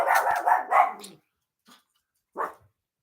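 A dog barks close up in a quick burst of several barks, goes quiet, gives a faint yip and then a single last bark.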